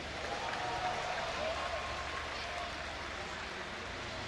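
A crowd at an IEM GamesCom StarCraft esports quarterfinal applauds and cheers for player MC, a steady wash of clapping and crowd noise throughout, with a caster's voice talking over it.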